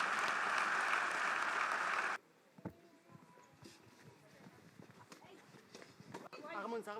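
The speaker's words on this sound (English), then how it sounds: "Clap hands for Jesus Christ." A congregation claps for Jesus Christ at a deliverance service, a loud dense burst of applause that cuts off abruptly after about two seconds and leaves quieter room noise and scattered voices.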